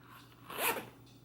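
A single quick zipper pull on an old vintage item, close and clear, rising and falling in about half a second against a quiet room.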